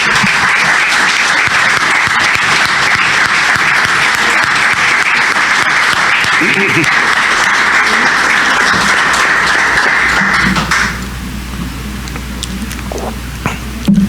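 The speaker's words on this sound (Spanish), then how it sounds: "quiero aprovechar la ocasión para que le brindemos un aplauso a Miguel Ángel Ortega Solís" Audience applause fills a lecture hall on Mexico's independent-era system of government, a dense sustained clapping that runs about ten seconds before dropping off to a quieter room tone.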